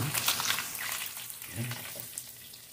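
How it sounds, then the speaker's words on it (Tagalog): Soft, steady sizzle of tanigue (Spanish mackerel) frying in oil with faint crackling, fairly quiet, with a low murmur in the background. "Habang tayo nagpiprito"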